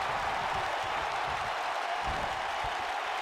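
A steady wall of crowd roar fills a WWE 2K19 wrestling arena, a dense, unbroken hum of many voices that holds at an even level without sharp peaks.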